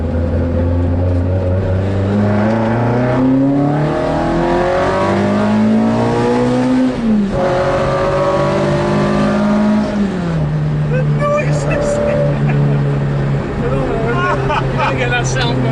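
Cosworth-powered Ford Escort RS2000 race car engine revving loudly up and down through gears from inside the cabin, rising and falling harmonic sweeps with a brief lift near the middle, with occasional voices underneath.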